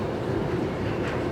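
A train rumbles steadily at a station in Singapore, a dense low roar of moving rail cars that holds without a break for the whole moment.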